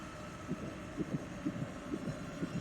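A quiet heartbeat effect from the horror game Amnesia: Rebirth gives soft double thumps about twice a second over a low, steady hum.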